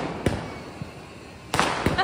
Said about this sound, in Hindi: और इस फैमिली में सब पटाखे चलाते हुए